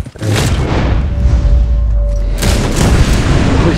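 A heavy, booming gunshot in the Red Dead Online video game kills the sheriff: a loud close blast at the start, then a second broad burst a couple of seconds later over a steady low rumble.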